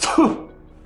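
A single cough into a face mask, close and muffled, with a quick sharp burst that fades into a brief quiet tail.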